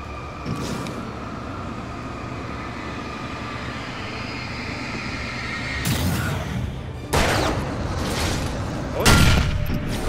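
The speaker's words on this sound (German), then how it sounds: "Ach, die explodieren." Explosions in the video game Alan Wake at a train depot, several loud blasts that burst out over a steady rumbling background, the first one long, followed by two shorter sharp bangs close together.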